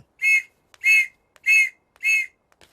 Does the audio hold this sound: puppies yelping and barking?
no